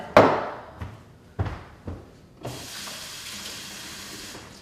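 Drops of water flicked onto a hot wok heated to about 375 degrees, with a few short sharp splashes and taps before a sustained broadband hiss of sizzling water takes over.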